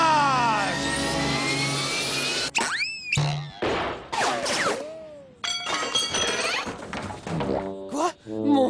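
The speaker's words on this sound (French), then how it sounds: "Mon satellite va bientôt décoller." A cartoon satellite rocket lifts off with a loud whooshing roar, broken by sharp thunks, squeals and shattering effects, while animated characters speak in French around the sound.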